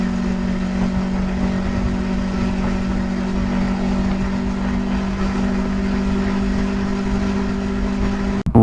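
Steady engine drone and wind rumble from a motorcycle ridden at night, recorded by a Vantrue F1 motorcycle dash cam, a constant unbroken hum with no distinct changes until a brief knock at the very end.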